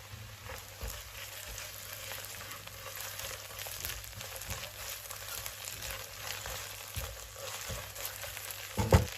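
Onions, green chilies, curry leaves and ginger garlic paste sizzle steadily in hot oil in a pan, a quiet, continuous frying hiss with occasional stirring and a brief louder clatter near the end.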